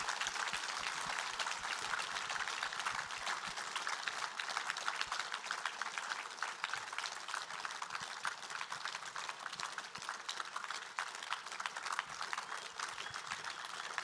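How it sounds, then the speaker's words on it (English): Applause for two panelists rises from an audience as a soft, continuous rain of clapping that stays even and fairly distant throughout. "we definitely owe these two a big round of applause"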